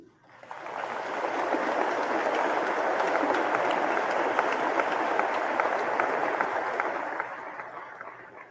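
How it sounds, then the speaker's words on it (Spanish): Sustained applause from a congregation at a Catholic funeral Mass, steady and dense clapping for several seconds that swells in and tapers off at the end. "le entreguemos a él un fuerte aplauso en gratitud por el servicio ofrendado"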